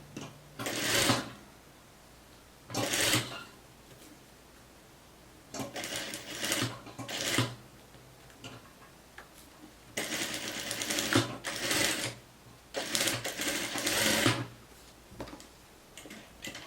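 A sewing machine stitches a trouser seam in several separate runs of rapid mechanical ticking, each lasting a second or two with quiet gaps between, close and clear with no talk.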